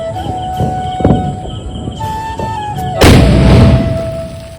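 A sharp, loud firecracker blast bursts out after some scattered background clatter, followed by a lingering, crackling rumble.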